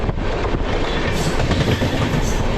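The Garib Rath train from Visakhapatnam to Secunderabad rumbles past close by, with a steady roar and a rattling clatter of wheels on the rails, loud throughout.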